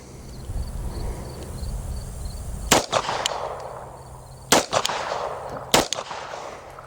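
Three sharp, loud gunshots from an Ermox X-fire air gun fired at golf ball targets, spaced a second or two apart, each a crisp crack with a short tail, over steady outdoor background.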